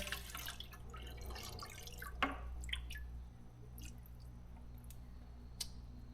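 Coolant drips back into a container during a thermostat job on a CAT 305.5E2 mini excavator, with faint irregular drips and small wet squelches over a low steady hum.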